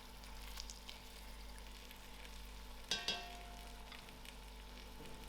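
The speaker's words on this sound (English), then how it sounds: "I turn my jackfruit once so it's fried on the both side" Jackfruit pieces frying in a pan, a quiet, steady sizzle with a couple of sharp clinks near the middle.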